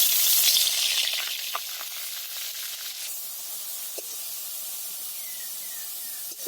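Food frying in oil in a kadai, a bright steady hiss that is loudest at first and then settles into a quieter even sizzle, with a few faint clinks and no talking.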